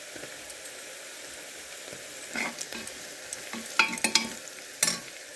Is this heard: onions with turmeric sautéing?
yes